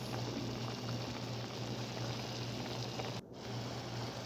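Water with soy sauce boils in a pan of ginisang hipon, a sautéed shrimp dish, making a close, continuous bubbling hiss with a brief dip just before the end.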